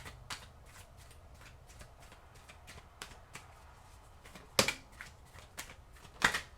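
Tarot cards being shuffled by hand, a soft papery riffle-and-slide texture of repeated light flicks with two sharper, louder card snaps near the end, close by with no talking.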